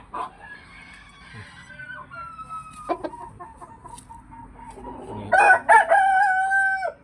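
A fighting rooster crows nearby, giving long, drawn-out calls with a sharp, loud cry near the end, broken by a few clucks and light rustling in the background.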